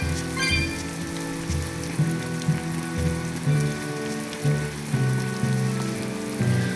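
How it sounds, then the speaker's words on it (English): Rain pattering on surfaces in West End in the video game Tales of Berseria, a steady patter mixed with game music tones throughout, no talk. "It rains so much in West End"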